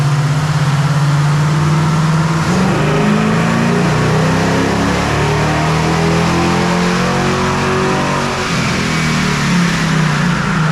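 A stock 440 big block V8 in a Challenger R/T roars loudly and continuously on a dyno, revving up through the range and holding at high RPM, with a brief dip near the end.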